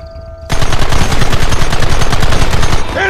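Rapid, loud machine gun fire in the Western video game Red Dead Redemption rattles in a sustained burst of evenly spaced shots lasting nearly three seconds, ending abruptly with a brief tonal sound.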